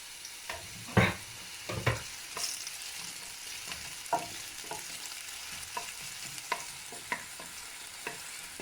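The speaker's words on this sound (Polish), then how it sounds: "Teraz na rozgrzany olej wrzucamy naszą cebulkę." Diced onion frying in hot oil, a low steady sizzle punctuated by a few louder early clatters and then sparse light scrapes as it is stirred.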